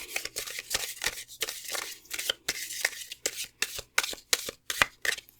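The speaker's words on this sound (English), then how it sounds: "Get a nice shuffle in here to choose our cards." Oracle cards are shuffled repeatedly up close, producing rapid papery riffles and slaps in an uneven rhythm with no talking.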